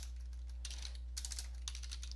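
Soft, fast keystrokes tap on a computer keyboard in a few short bursts, quiet and close over a steady low hum.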